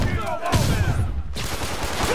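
Spider-Man video game on PlayStation 4, with a short burst of gunfire from police forces, a few quick shots over game background noise and a brief pause before ambient clatter resumes.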